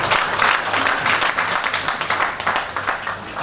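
Audience applause at a book launch ceremony in Dubai, a dense steady burst of many hands clapping that fills the hall throughout.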